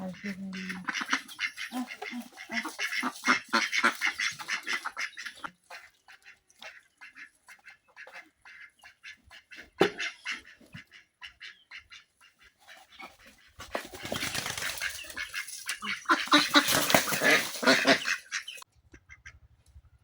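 Ducks on a small farm, some of them sick, quack in repeated bursts, loud and close, with a dog and other fowl mixed in and people talking nearby.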